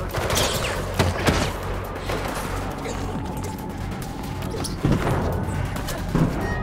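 Bursts of gunfire aimed at the player in Mirror's Edge Catalyst crack and rattle in scattered volleys over a running game soundscape, with sharp louder shots at intervals.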